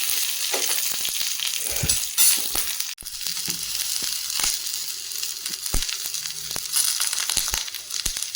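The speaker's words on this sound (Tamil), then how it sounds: "பச்சை மிளகாய், வரமிளகாய், வெங்காயத்தை ஆட் பண்ணி வதக்கிடுங்க." Green chilies, dried red chilies and onion sautéing in a hot pan with oil and lentils, a loud close sizzle broken by scraping and stirring knocks, with no talking.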